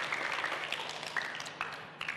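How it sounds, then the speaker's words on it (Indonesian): Applause for a group of children at a Ramadan event, a steady patter of many hands clapping at moderate distance, continuous throughout without speech. "kasih tepuk tangan lagi dong sama temannya"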